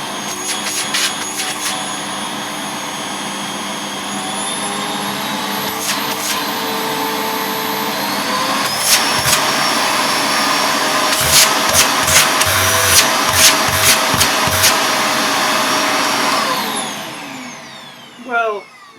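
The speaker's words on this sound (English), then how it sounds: "let's judge the suction power of this Hoover Sonix. Starting off on low speed, and then we'll work our way up a bit." A Hoover Sonix 2300-watt bagless vacuum cleaner runs with a steady whining roar and bursts of clicking and rattling partway through, then winds down near the end.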